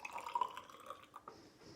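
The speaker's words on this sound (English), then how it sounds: "So we can just pour 25 centimetres into a measuring cylinder" Liquid, about 25 centimetres' worth, poured into a measuring cylinder during a school chemistry practical on making copper(II) sulphate: a soft, faint trickling splash lasting under two seconds, with no talking.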